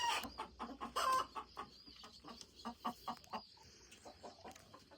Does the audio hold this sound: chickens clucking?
yes